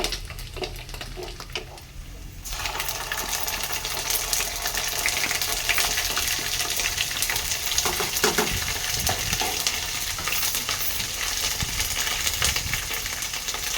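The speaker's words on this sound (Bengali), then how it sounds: "নারকেলগুলো লাল লাল করে ভেজে নেবো।" Grated coconut frying in a pan until reddish-brown for a coconut chana dal: after about two quiet seconds a steady, close sizzle starts and continues, with occasional stirring scrapes.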